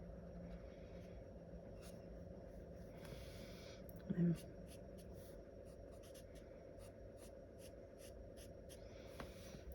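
Shading strokes drawn across a handmade stamped card, a soft repeated rubbing scratch of a coloring pen or pencil on paper under quiet room hum, with one brief louder tap partway through.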